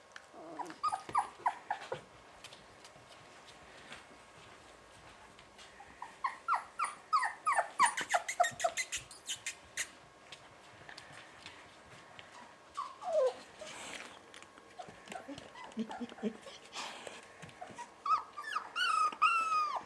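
Young puppies growl, yip and whimper close by, with bursts of little squeals and grumbling noises coming in clusters over steady low background noise.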